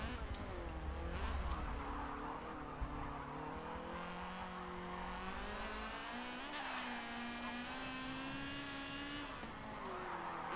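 A race car engine in the video game Forza Motorsport 7 revs hard and steadily, its pitch climbing and falling through gear changes, loud and close with some tire squeal and no talking.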